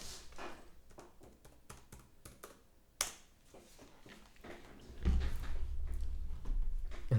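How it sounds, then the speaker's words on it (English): Fingers type a password on a computer keyboard while installing Vanilla OS, giving a quiet, close run of irregular key taps and clicks, followed by a louder low hum toward the end. "Let me type in the password."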